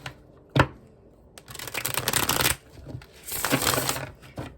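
Tarot cards are shuffled by hand in a few rapid riffling bursts, each lasting about a second, close and fairly loud, separated by short quiet gaps and a single sharp tap near the start.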